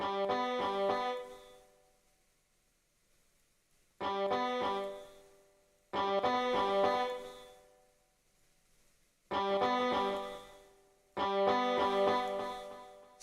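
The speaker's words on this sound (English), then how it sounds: "See, that's what the delay is. So you have an echo." Short synthesized musical phrases with a delay effect repeat in loud bursts about every two seconds, each trailing into a fading echo before the next one starts.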